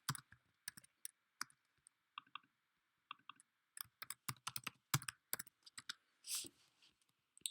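Typing on a computer keyboard to rename layers in Affinity Photo, quick irregular clusters of crisp key clicks close to the microphone, ending with a longer key press, quiet and without talk.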